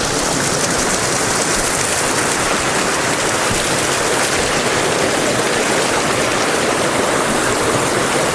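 A creek pours through an old tipped-over pressure vessel, giving a steady, loud, broad rush of water that stays constant throughout with no talking.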